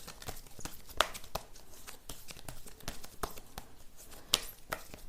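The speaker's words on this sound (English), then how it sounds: "I will shuffle more oracle cards for you." Oracle cards are shuffled in a rapid, irregular patter of soft papery flicks and slaps, fairly faint and close, with a couple of sharper snaps.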